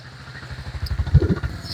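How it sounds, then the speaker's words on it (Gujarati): A motorcycle engine runs with a rapid low pulsing throb while being ridden outdoors near a river, close and fairly loud over a brief stretch. "અમારું બાઈક જોવો તમે"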